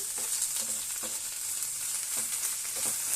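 Ginger garlic paste fries and sizzles steadily in a pan while being stirred, with a few soft scrapes and knocks of the spoon over the continuous close hiss.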